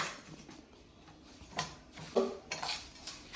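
Urad dal dry-roasts in a pan: a utensil stirs and clinks against the metal in scattered, faint taps and scrapes.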